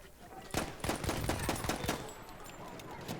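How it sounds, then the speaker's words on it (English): Rapid pistol shots in the video game Battlefield 1 crack in a quick burst of about a dozen, loud and close, then fade into quieter background game noise. "I'm just pistoling these guys."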